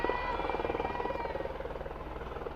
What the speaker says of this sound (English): that's why you hear planes and helicopters in the background